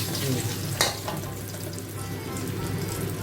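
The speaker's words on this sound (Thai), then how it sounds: "ก็จะเอาพริกแกงไปรวนให้ สุกนะครับ" Finely ground red curry paste from a southern Thai shop stir-fries in hot oil, crackling and hissing continuously with one brief scrape of stirring near the start.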